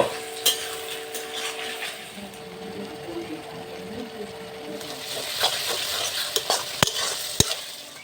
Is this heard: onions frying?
yes